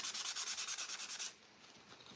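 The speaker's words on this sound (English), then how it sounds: "I'm going to, just a little bit, with my sanding block," A sanding block rubs back and forth over a wooden farmhouse sign in about a dozen quick, even strokes, then stops, leaving near-quiet room tone.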